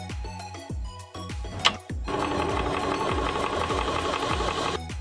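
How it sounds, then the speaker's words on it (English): ToAuto A1 portable PCP air compressor running, a rapid mechanical knocking rhythm like a small piston pump, close and steady, with a brief click before it settles into a denser, louder chugging drone. "Powerful PCP compressor."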